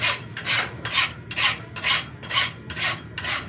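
A metal hand file rasps back and forth across a sewing machine link in an even rhythm of about eight strokes, each a close, gritty scrape with short pauses between.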